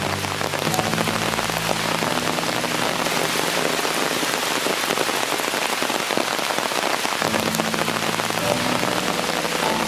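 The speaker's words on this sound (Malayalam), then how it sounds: "കാട്ടിലെ മഴയ്ക്ക് പ്രത്യേക സൗന്ദര്യമാണ്." Steady rainfall in a dense rainforest near Sholayar, Athirappilly, drops pattering on leaves and surfaces in a continuous, even hiss that holds at full volume throughout, with no voices.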